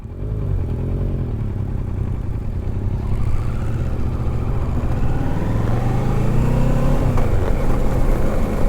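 Motorcycle engines rumble steadily on a Scottish country road, with engine pitch rising and falling as bikes ride past one another. The drone stays loud and continuous the whole time.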